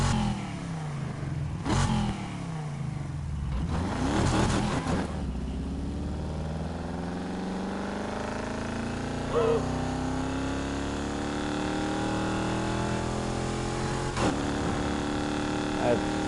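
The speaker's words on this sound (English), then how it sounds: "Such a good sounding car." A car engine in the racing game Need for Speed Heat revs hard, rising and falling through gears with rapid sweeping pitch climbs, loud and close, while someone talks over it.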